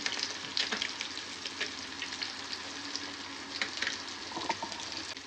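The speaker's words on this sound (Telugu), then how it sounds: "కట్ చేసుకున్న ఉల్లిపాయలు, పచ్చిమిరపకాయలు ఆయిల్ వేసుకొని వేసుకోవడము. ఫ్రై అవుతుంది." Chopped onions and green chillies fry in a generous amount of oil for a village-style fish curry. A steady, fairly quiet sizzle runs throughout with occasional small crackles and stirring sounds.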